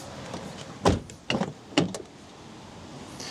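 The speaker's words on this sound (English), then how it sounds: "We've got a dodgy door latch." A Honda Jazz car door with a dodgy latch is shut, giving a few quick knocks and clunks in a row, fairly near, with no talk.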